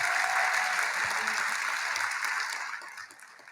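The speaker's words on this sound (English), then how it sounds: "Let's give it another round of applause for that amazing" Audience applause at an inauguration ceremony for a performance, a dense wash of clapping that starts strong and gradually fades over a few seconds.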